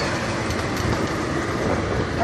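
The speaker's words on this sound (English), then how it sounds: "as we are crossing over this train trestle" Safari train rolling across a railway trestle, a steady close rumble with faint rhythmic rattle throughout, no voices.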